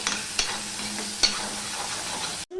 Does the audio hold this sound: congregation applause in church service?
no